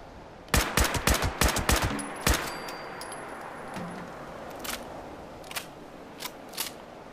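Gunfire in the Fallout 76 video game while aiming for a headshot: a fast burst of sharp cracking shots, then a single louder shot and several scattered fainter reports trailing off.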